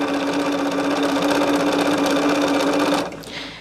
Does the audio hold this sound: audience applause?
no